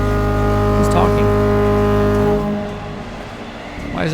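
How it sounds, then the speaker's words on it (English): A deep, loud horn blares steadily for about two seconds in the video game Stories Untold before cutting off, with voices speaking over it. "Why is it honking at me?"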